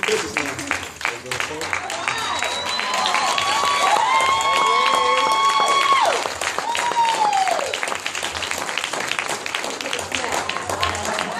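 An audience claps and cheers at a Chicago event honoring an artist with a magazine cover, continuous dense clapping with whoops and whistles rising mid-clip, while a voice talks over the crowd.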